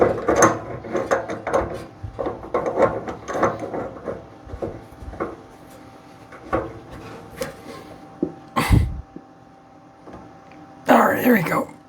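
Wrench clanks and ratchets against the bolt of a snowblower gearbox in a workshop, producing uneven bursts of metallic knocks and scrapes, with someone talking between them.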